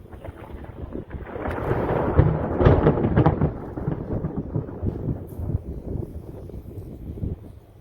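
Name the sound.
thunder from a nearby lightning strike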